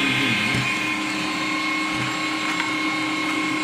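A Bosch electric meat grinder mincing meat runs with a steady, close motor whine and hum that holds constant for the whole stretch, with no talking.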